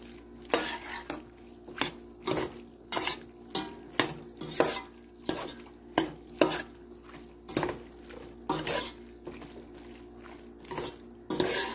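Macaroni salad being stirred with black pepper and garlic, a spoon scraping and knocking against the bowl in steady repeated strokes, fairly soft and close, with no talking.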